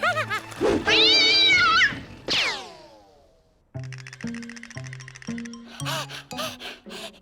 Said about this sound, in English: Please, I'm a cat.